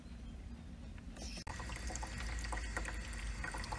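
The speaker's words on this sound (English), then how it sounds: "I had to let this water hose run a little bit because it was scalding hot water coming out of here" A garden water hose runs into an animal watering trough, a steady close pour of water that surges louder after a brief break.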